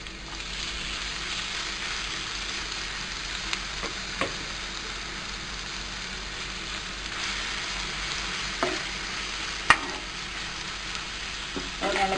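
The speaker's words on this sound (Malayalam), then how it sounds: "അതിൽ നമ്മൾ മിക്സ് ചെയ്ത് വെച്ചിട്ട് വഴുതനങ്ങ ഇട്ട് കൊടുക്കാം." Spiced brinjal slices fry in hot oil with a steady, moderate sizzle, broken by a few faint clicks of stirring.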